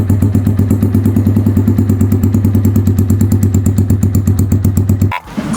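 Keeway CR152 motorcycle fitted with an SC Project muffler and silencer idles up close, a loud, steady, rapid thumping exhaust beat that runs evenly before stopping abruptly near the end.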